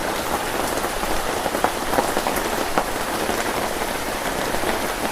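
A light rain drizzles down in a steady, even patter of drops on surfaces nearby, continuous and fairly loud, with no voices over it.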